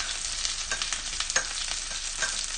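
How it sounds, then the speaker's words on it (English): Parsley, oil, garlic and chili sauce are stirred together in a bowl, making soft, wet, slushy scraping swirls with a few brighter clicks of the utensil against the bowl, close and continuous, with no voices. "We're going to give that a little mix here."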